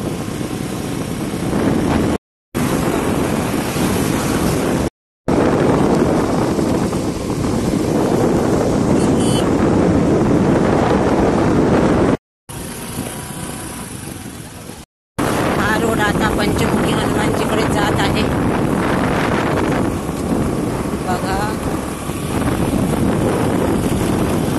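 Steady roaring wind buffets the microphone while riding a two-wheeler on an outdoor road, loud and continuous with a few brief dropouts.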